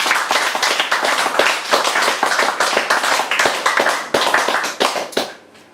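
A small poetry-night audience gives close, lively applause for poet Clare Mulley, individual hand claps distinct and fairly loud for about five seconds before tapering off.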